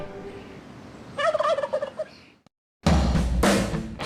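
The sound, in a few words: customized turkey caller imitating turkey gobble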